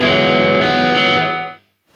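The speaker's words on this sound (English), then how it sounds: "It's a gated reverb." An electric guitar chord through a gated reverb pedal rings out, thick and effected with a wash of reverb, then cuts off abruptly after about a second and a half into silence.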